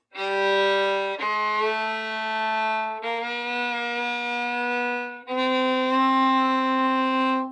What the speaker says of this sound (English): When you're playing your scale and you're trying to get it in tune